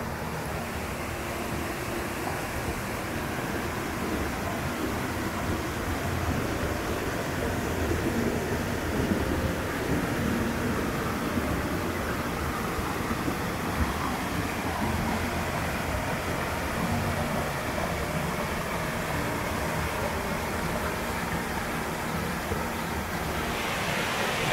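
A waterfall along a motor trail in the Great Smoky Mountains roars as a steady, broad rushing wash, unbroken and fairly loud throughout.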